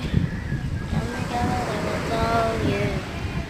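Rough sea waves rush and wash in a steady, broad roar along the shore, with a voice heard faintly in the background.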